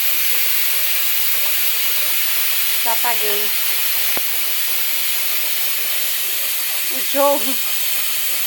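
Steady loud hiss of steam venting from a pressure cooker after its pressure pin pops out, continuous throughout, with brief spoken words and a small clatter partway through.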